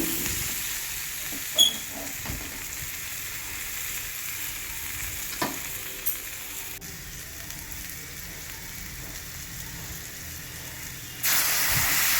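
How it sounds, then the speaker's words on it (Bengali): Vegetables with turmeric powder are stirred in a hot pan for a Bengali shukto, giving a continuous steady sizzle and frying hiss with a few spatula knocks, close and without talk. "আমি প্রথমে হলুদ গুঁড়ো দিয়েছি দিয়ে সবজিটাকে নেড়ে নিচ্ছি"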